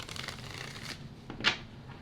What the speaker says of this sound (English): that was an interesting shuffle